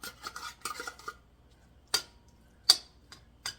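Canned tuna is scraped out into a bowl, a metal utensil scratching and clinking in a quick burst, then a few sharp isolated taps against the can or bowl, close and quiet.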